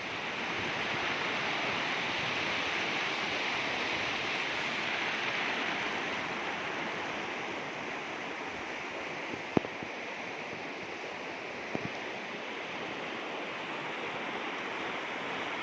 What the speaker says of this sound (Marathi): हे पहा मित्रांनो अशा प्रकारचं पाण्याचा धबधबा कसा येतो पहा